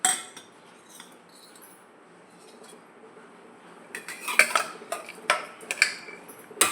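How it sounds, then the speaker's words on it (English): A metal spoon stirs wheat vegetable porridge in a pot, scraping and clinking against the sides in quick irregular knocks that grow busier after a quiet start, close and clear with no talking. "We are mixing it properly."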